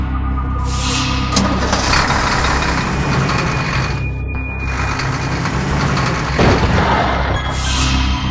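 A tractor engine idles with a loud, steady low rumble that runs throughout, broken by a few brief hissing surges, with no voices present.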